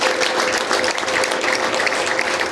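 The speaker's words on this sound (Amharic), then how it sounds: "እልልታና ጭብጨባ ለእግዚአብሔር።" Congregation at a church service breaks into dense, loud applause mixed with high, sustained ululation, a steady wall of clapping and trilling voices that holds throughout without pause.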